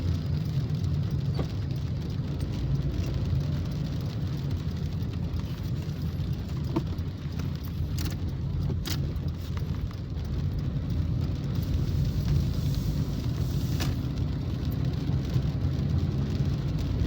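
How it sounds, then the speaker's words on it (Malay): Heavy rain drums steadily on a car driving through Beverly Hills, Bundusan, Penampang, Malaysia, a constant dense hiss over low road rumble with no talking. "Ya betul-betul belum habis my friend ni hujan."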